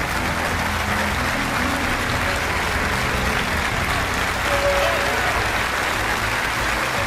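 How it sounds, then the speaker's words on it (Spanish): A church congregation of hundreds gives sustained, loud applause at a religious gathering, a dense continuous clapping that swells slightly near the end. "Vamos a dar un caluroso aplauso al Señor de señores"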